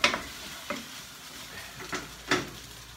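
Eggs with Thai spice sauce stirred in a hot pan: a handful of soft, separate scraping strokes over a quiet sizzle, close and unaccompanied by voices.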